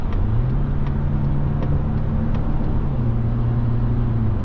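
Steady in-cabin engine drone from a 2025 Mazda CX-90 Premium Plus hybrid SUV pulling hard to overtake, its tone rising and holding under road roar with electric assist, loud and continuous with no talk.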